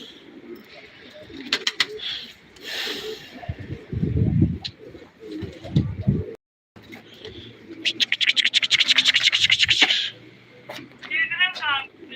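Pigeons coo repeatedly in a loft alongside scratching and rustling, with bursts of chirping from a young blue pigeon arriving; a person speaks nearby at times.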